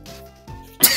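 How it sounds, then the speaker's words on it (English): A person sneezes while playing The Sims 2: Pets on GBA: a short inhale followed by a sharp, loud burst close to the microphone over faint game music. "I apologize for my sneezing"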